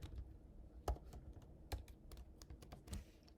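Fingers tap on a computer keyboard in a quick, uneven run of soft clicks with a few sharper key strikes, close and fairly quiet.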